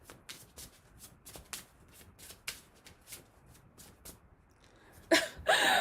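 Tarot cards shuffled by hand in a steady run of soft, crisp riffling bursts, close and fairly quiet, followed by a couple of louder thumps and rustles at the end.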